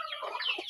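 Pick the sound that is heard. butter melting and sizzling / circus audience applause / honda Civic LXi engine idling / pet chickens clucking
pet chickens clucking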